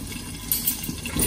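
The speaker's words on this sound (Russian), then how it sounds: "О, как все скворчит" Fried eggs and shpikachki sausages sizzling in a hot pan at breakfast, a steady hiss and crackle with small pops, close by and alone.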